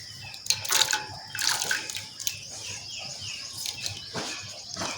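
Two kilograms of milk poured into a pot on a stove, a soft continuous splashing trickle with some brief sharper sounds, faint and close, with birds chirping in the background.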